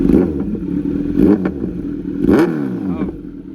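A Kawasaki Ninja Z900 motorcycle revs close by through its exhaust, with sharp rising blips near the start, middle and end over a steady idle rumble.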